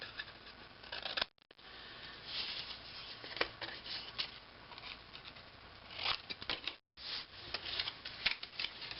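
Scissors snipping paper pieces while making an envelope mini album, a steady close run of crisp cuts and rustling paper with two brief pauses.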